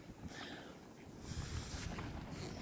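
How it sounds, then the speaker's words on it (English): Wind buffets the microphone in low, rumbling gusts, swelling stronger midway through with no voices. "it's windy out here"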